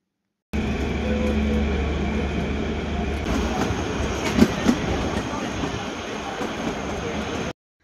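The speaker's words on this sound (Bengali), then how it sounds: "আমাদের ট্রেনটা এগিয়ে যাচ্ছিল।" The Kalka–Shimla toy train rolls along its narrow-gauge tracks, a steady rumbling ride from on board with rhythmic clacking of wheels, a couple of sharp knocks midway, and a faint voice underneath.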